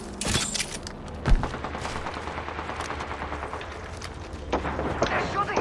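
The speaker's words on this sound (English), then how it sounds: "They're shooting at me." Gunfire in a shooter video game, with scattered bursts and a sharp loud shot near the start over continuous game ambience, while voices talk in the background.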